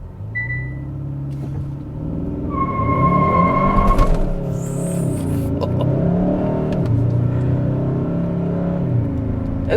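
A 2022 Hyundai Sonata N-Line idles and then revs its engine while held on the brake for launch control. The rumble holds steady and swells into a rising, sustained revving partway through, with no talking.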